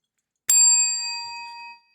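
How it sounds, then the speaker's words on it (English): A single bright ding from a small bell like a bicycle bell, struck once and ringing clearly before fading out over about a second, with no talk. "It's the bell."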